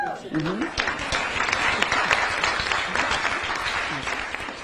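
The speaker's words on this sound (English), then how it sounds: "That deserves applause." Dense, steady applause from an audience at a politician's event at Georgetown fills the whole stretch, loud and continuous, with a voice briefly audible at the start.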